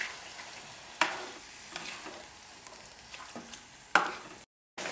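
Mutton frying dry in a kadhai for Punjabi kadhai mutton, a steady low sizzle with two sharp stirring scrapes of a spoon against the pan, ending in a brief gap of silence.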